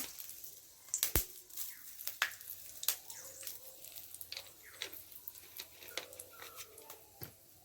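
Spices and oil sizzle and crackle in a pan while tempering for a chicken curry, with scattered sharp pops and spits over a soft, steady frying hiss, close by.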